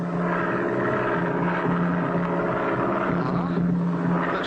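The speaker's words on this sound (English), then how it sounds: "I hear it. It's a plane. That's Pack Rat's plane. I'd know the sound of his engine anywhere" A cartoon propeller plane engine drones steadily with a low, constant hum, holding at an even loudness throughout as if the aircraft is approaching.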